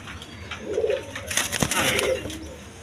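A young pair of pigeons, one green-necked and one maidom, coos in two low bursts close up, broken by a sharp rustling burst in the middle.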